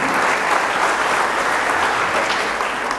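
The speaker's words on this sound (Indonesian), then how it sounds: "Tepuk tangan dulu untuk Tuhan" Sustained, loud applause from a church congregation at a Christmas service, a thick, even wash of many hands clapping throughout.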